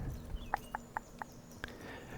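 Horse hooves clip-clop at an easy walking pace in Kingdom Come Deliverance II, five crisp, close hoof strikes spaced unevenly over a soft ambient background, with no talking.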